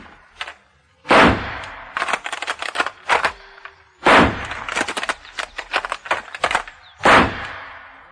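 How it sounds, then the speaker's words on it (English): Gunshots fired at door hinges in a 1981 audio drama of Arthur Machen's The Terror: four loud, close blasts at roughly three-second intervals, with clusters of rapid cracks and clatter between them and no speech. "We're going to shoot at the hinges."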